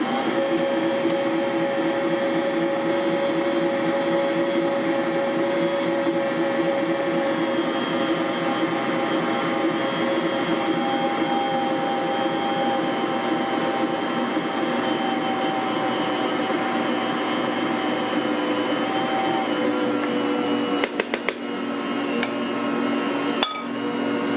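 A Bosch Universal Plus stand mixer runs steadily on speed 1 as four cups of flour are mixed in, giving a continuous motor whir with rhythmic churning throughout and a few light knocks near the end.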